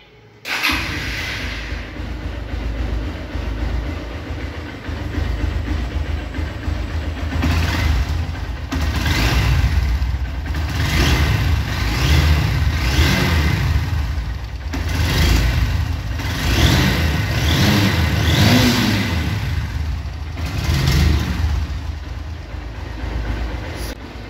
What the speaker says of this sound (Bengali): আপনাদেরকে এখন আমি ইঞ্জিনের সাউন্ড শোনাবো।